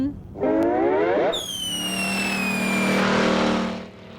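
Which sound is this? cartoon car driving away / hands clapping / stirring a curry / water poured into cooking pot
cartoon car driving away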